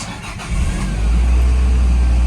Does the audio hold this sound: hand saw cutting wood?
no